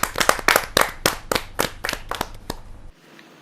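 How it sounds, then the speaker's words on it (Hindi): At a Hindi poetry gathering, a small audience claps to welcome a woman poet: a burst of sharp, close hand claps with an uneven rhythm that thins out and stops after about three seconds, leaving near silence. "आपकी जोरदार तालियां मिले अनुपमा तोषनीवाल जी"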